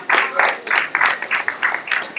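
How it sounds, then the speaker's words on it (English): Applause from an audience at a men's convention comes as a run of quick, evenly spaced clapping bursts, fairly close and lively, with no talking over it. "Let's give a round of applause."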